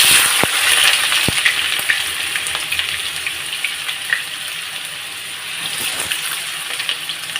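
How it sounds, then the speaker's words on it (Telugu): Onions sizzle and crackle steadily in hot oil, with a few sharp pops and clinks from a utensil against the pan. "మనం ఇప్పుడు ఉల్లిపాయలు వేసుకుందాం"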